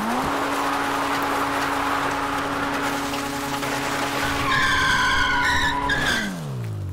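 A Supra's tires squeal in a long, loud, sustained skid as the car spins around in GTA V, with engine noise underneath and a sharp shift in tone near the end as the slide stops.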